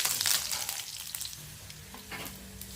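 Cumin, chili and curry leaves crackle and spit in hot oil in a pan, a bright sizzle with sharp pops that is strongest at the start, then settles into a quieter hiss with light stirring.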